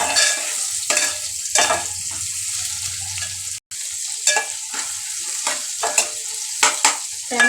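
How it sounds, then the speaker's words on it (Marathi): Tomatoes fry in a pan for dal tadka, stirred with repeated scraping strokes over a steady close sizzle that runs throughout, broken by one brief dropout. "टोमॅटो पण चांगला लाल करून घ्यायचा त्यामध्ये"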